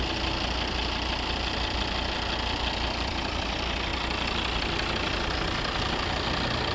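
A 2011 Volvo V70 2.0 D3 five-cylinder diesel engine runs steadily at idle, loud and close, with a constant clattering rumble and no change in pace.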